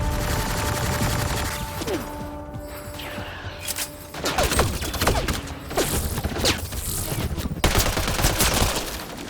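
Gunfire in the sci-fi shooter Mass Effect: Andromeda: dense bursts of rapid automatic fire and sharp mechanical clacks over a loud continuous battle din, with shots crowding into each other.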